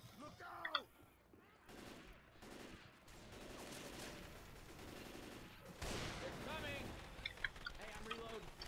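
Fireworks in the Left 4 Dead 2 game, crackling and popping in rapid bursts like gunfire, with whistling streaks and booms, loud and continuous over several seconds.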